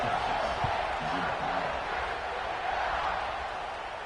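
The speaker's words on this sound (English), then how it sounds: "this crowd is buzzing after that last score" Football stadium crowd buzzing after a touchdown, a dense, steady roar of many voices filling the space, with a commentator's voice faintly over it.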